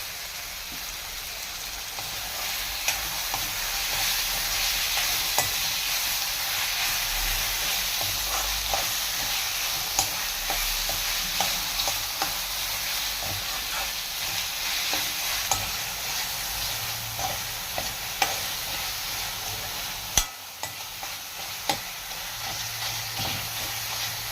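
Ginger garlic paste and tomato fry in a pan for a chicken curry, sending up a dense, continuous sizzle with frequent small crackles and pops and occasional spoon scrapes throughout.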